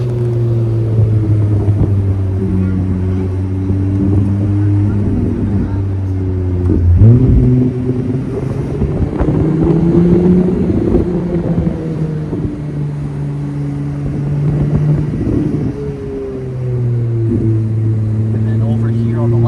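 A Ferrari engine hums and rises through gear changes while driving the Monaco F1 circuit, a loud steady drone close by, with a shift and rev surge partway through and someone talking over it throughout.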